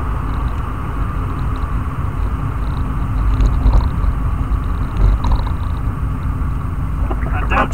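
Car engine rumbling steadily from inside while driving through a series of traffic lights, a low continuous drone with slight swells, no talk.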